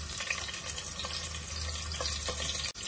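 Shahi jeera and green chilies hit hot oil for a biryani masala, crackling in a steady, close sizzle with small pops throughout, no voices.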